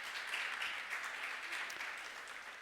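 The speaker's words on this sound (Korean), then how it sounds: "그 네 분 패널에게 큰 박수 한번 보내주시기 바랍니다" A crowd at a church gathering gives a soft, sustained round of applause, faint and diffuse, with no voices over it.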